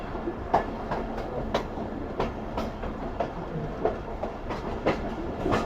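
Pakistan Railways train running along the track in heavy fog, a steady rolling rumble broken by repeated sharp clickety-clack wheel beats at irregular intervals, fairly close and with no talk.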